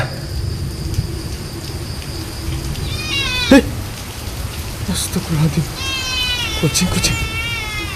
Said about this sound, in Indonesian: Kucing dari mana ini ya?